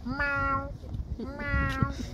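A human voice imitating a cat, giving two drawn-out meows in a row, close and fairly loud.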